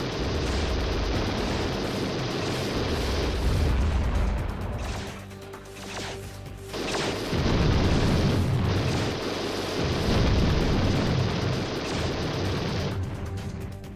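Loud, sustained explosion of a destroyed troop transport in the video game TerminalFury (Hellbender), a dense roaring blast that briefly dips mid-way, then surges again and keeps rumbling.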